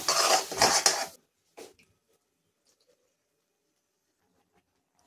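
Spoon scraping and clattering in a pan as a chole and potato mixture is stirred, a close burst of about a second followed by a brief knock and then near silence.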